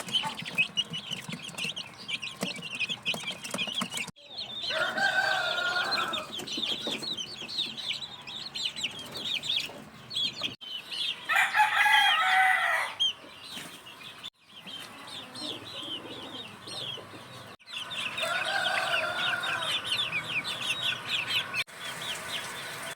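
Gamefowl chickens clucking and chirping close by on a farm with chicks, with a few rooster-like calls rising over a busy, continuous background of bird noise.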